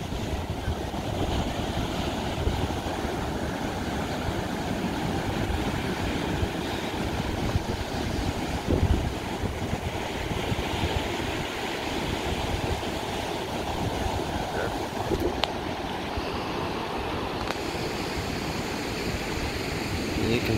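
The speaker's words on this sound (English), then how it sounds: "the waves are still crashing like crazy." Heavy surf crashes on an Outer Banks beach the day after a storm. The rumble is broad and continuous, mixed with buffeting wind on the microphone.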